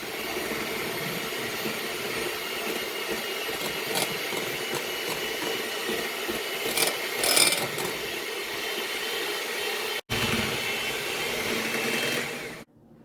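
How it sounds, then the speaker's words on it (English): Electric mixer whipping cake cream, a steady loud mechanical whir running almost continuously with one brief cut-off near the end. "now we'll just mix it up until we start seeing the fluffy look inside"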